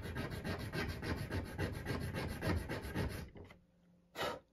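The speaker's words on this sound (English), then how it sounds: "I have this little grinding stone, and I'm just kind of trial and error, sand a little off at a time" A small grinding stone sands down a plastic steering rack part from a Tamiya M06 RC car, giving a steady, close, rhythmic rasping scrape that stops, followed by one short final rub, with no talking.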